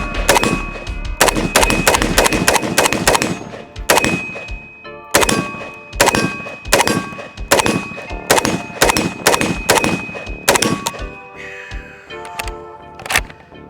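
An HK AP53 roller-delayed gun fires in loud, close bursts of rapid shots separated by short pauses, each burst sharp and ringing, with a metallic ding near the end.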